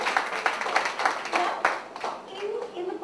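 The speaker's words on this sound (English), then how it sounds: "A round of applause, guys." Audience clapping at a book launch event, a steady patter of applause from a small crowd that fades toward the end, with voices talking over it.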